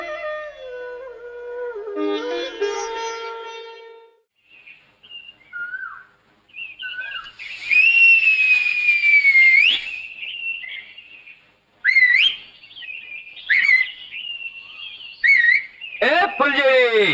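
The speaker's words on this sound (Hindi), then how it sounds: "इसीलिए लड़कों जैसी सीटियां मार रही थी" Loud, shrill human whistling in a Hindi film scene, several sharp bursts and a sliding pitch rising and falling, with an earlier tonal voice-like passage and quiet gaps between.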